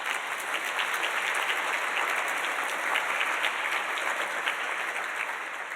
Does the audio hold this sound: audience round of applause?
yes